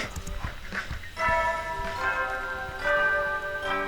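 A chime bell from The Hundred Line Last Defence Academy video game rings out in a bright sequence of sustained tones with harmonic overtones, following a busy stretch of softer game sounds.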